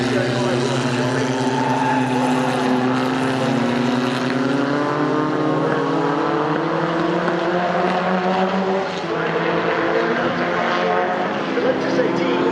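A pre-1966 historic Grand Prix race car passes at Silverstone circuit, its engine note rising and sliding in pitch across a sustained loud drone, with a commentator talking over it.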